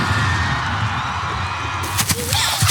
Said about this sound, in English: I'm leaving the ring of the cannon going.